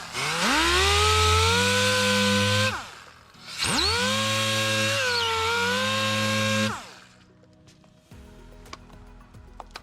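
An electric power tool scuffs down a car bumper, two long whining bursts of the spinning motor that wind up, hold a steady buzzing pitch and spin down, followed by quiet ticking.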